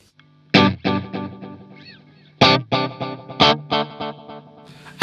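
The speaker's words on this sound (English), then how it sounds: "Let's move on to the 80s delay" Electric guitar runs through the 80s delay setting of a Nux Cerberus pedal, with several loud, distorted chord hits and short riffs, each trailed by shimmering echo repeats that fade between strikes.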